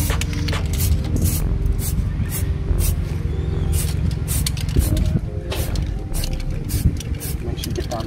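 Short hissing bursts of spray paint hit the brake calipers on a BMW F32, repeating at an even rhythm over a low rumbling background, with a voice talking now and then.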